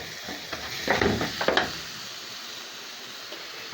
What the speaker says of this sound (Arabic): اروح حاطه كل جميع التوابل وافضل اقلب بقى في الخلطه دي شويه